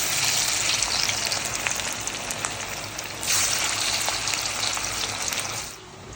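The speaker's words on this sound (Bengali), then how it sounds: "এই যে আমার ধোকা ভাজা হয়ে গেছে" Dhoka, Bengali lentil cakes, frying in hot oil in a home kitchen, a steady close sizzle and crackle with occasional pops and a brief stirring scrape, no voices.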